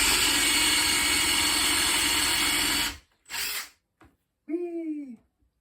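A power drill fitted with a blunt countersink bit running loudly and continuously into a salvaged chair, stopping abruptly, followed by brief short noises and a voice.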